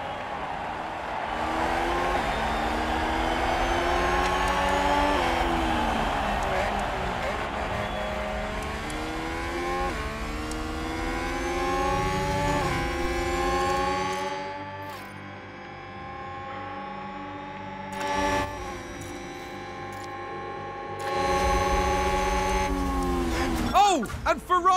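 Formula 1 cars in a video game race the São Paulo Grand Prix start, engines revving and rising in pitch through gear changes, with several cars close together, a commentator's voice running over them throughout.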